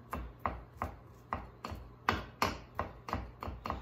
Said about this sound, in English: I've got my garlic cloves over here ready to be minced up